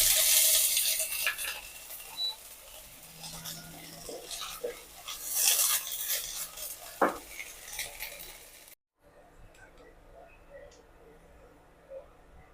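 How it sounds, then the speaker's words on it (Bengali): Onion frying in a pan with garlic and ginger paste: a bright, close sizzle broken by utensil scrapes and clinks against the pan, then quieter and subdued after a brief cut near the end. "এবার পেঁয়াজটা কিছুক্ষণ ভেজে নেব।"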